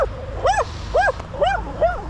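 A dog left guarding a man by a roadside forest ditch gives four rising-and-falling whimpering yelps in a steady rhythm, close and fairly loud over a low background rumble.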